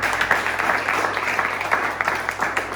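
A church congregation applauds in steady, moderately loud clapping that keeps up throughout, with a faint hum underneath.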